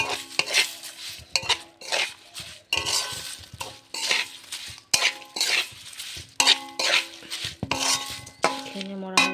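Ground spices are stirred in a pan with a little oil for Assamese jolphai (olive) pickle. Close metal utensil strokes scrape and clink against the pan in a steady rhythm of about a dozen passes over a faint sizzle.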